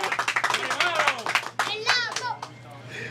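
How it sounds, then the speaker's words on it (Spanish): Several people clap their hands rhythmically at an eating contest, a quick steady burst of claps mixed with children's and adults' excited voices, some near and loud. "¡Aplauso!"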